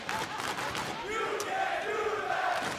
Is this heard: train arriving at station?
no